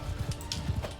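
Horse hooves clip-clop in a field battle in the video game Mount & Blade 2 Bannerlord, a quick run of low, dull thuds over a busy background.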